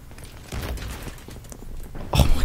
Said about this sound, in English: Oh my god, there's just explosions going off.